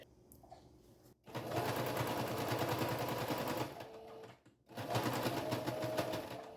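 A sewing machine stitching towel fabric runs in loud, fast, even bursts of needle rattle, pausing briefly between runs as the cloth is turned, with no speech.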